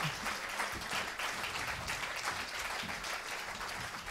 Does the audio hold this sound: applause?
yes